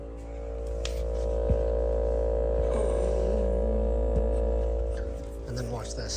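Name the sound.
LG fridge making humming noise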